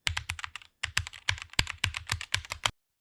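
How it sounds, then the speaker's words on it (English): Typing on a computer keyboard, rapid clustered keystrokes in two bursts with a brief pause between, close and clear with no voices. "In the search box, type Moving Average"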